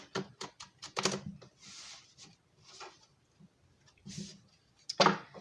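Bursts of crisp, papery riffling and soft slaps as tarot cards are shuffled close by, repeating in irregular clusters with quieter pauses between.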